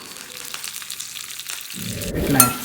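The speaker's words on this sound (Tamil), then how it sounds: "கொஞ்சம் கடுகு தாளிச்சு போட்ட போகிறேன்." Mustard seeds tempering in hot oil for a South Indian bitter gourd pitlai gravy, a quiet steady crackle that suddenly swells into a loud, close sizzle near the end.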